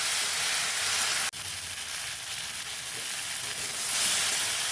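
Eggplant and other vegetables fry in spices in a hot pan, a loud continuous hissing sizzle with one sharp knock partway through and the hiss swelling near the end.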